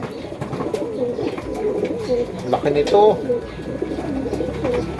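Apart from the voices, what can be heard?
pigeons cooing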